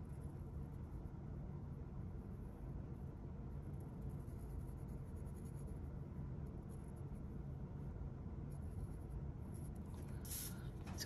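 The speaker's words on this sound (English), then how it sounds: "So I'm drawing this part now." Continuous soft scratching on paper while a still life is drawn, a close, even rasp of strokes that keeps a steady low level throughout.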